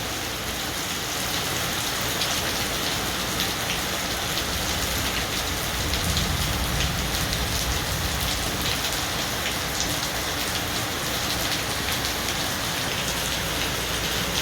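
Steady rain falls continuously, a dense, even hiss of drops on surfaces that holds at a constant level throughout, with no voices.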